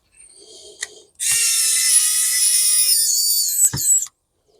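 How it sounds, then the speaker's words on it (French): An electric screwdriver drives screws into the speakers of a JBL Flip 3 Bluetooth speaker during repair. It gives a close, loud, steady whirring burst lasting about three seconds, preceded by faint clicks and ending with a sharp click. "Le haut-parleur, je vais les visser tous les deux pendant que j'y suis."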